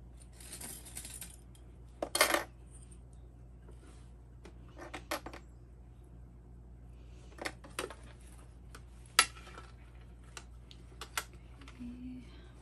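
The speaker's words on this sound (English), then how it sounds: "I'm going to clip down the sides" Plastic sewing clips snap onto the fabric sides of a zippered pouch, giving scattered sharp clicks and rustles at irregular intervals over a quiet room hum.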